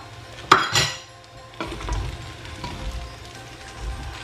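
Prawn fried rice with green pepper tossed in a pan, with a couple of loud spatula knocks against the pan followed by softer scraping and shuffling of rice.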